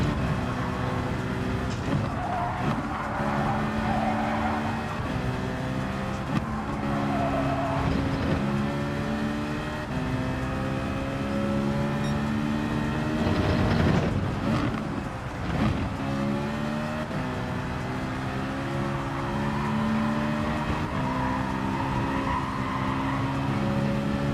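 Race car engine in Gran Turismo 7 revving and accelerating through the gears, with rising harmonic whine, brief tire squeal and skidding mid-way, loud and continuous throughout with no talk.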